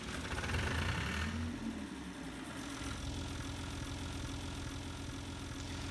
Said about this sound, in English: Nice little old tractor.